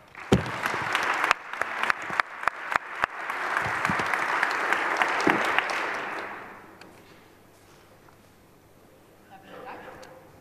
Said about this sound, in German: bitte helft mir, sie willkommen zu heißen mit einem schönen Applaus.